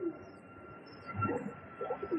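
Madrasi and Giribaj pigeons coo softly in a loft, low throaty calls swelling in the second half over a steady background hum.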